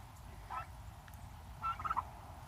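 Turkeys gobble in short rapid bursts, fairly faint and at a moderate distance, over a low steady background rumble.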